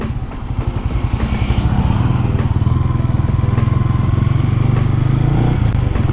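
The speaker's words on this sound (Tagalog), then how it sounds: "Hindi kaya ng motor." A motorcycle engine labours in floodwater after a typhoon, its loud, close putter rising to a steady, strained drone with rapid rhythmic pulses and faint splashing clatter.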